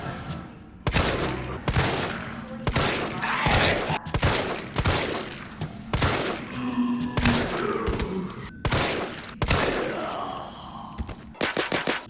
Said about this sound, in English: it took me 10 shots to defeat that zombie with the standard G19, no parts attached